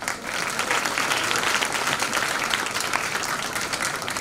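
A theatre audience applauds steadily at a stage play performance, a dense unbroken wash of clapping lasting a few seconds with no voices over it.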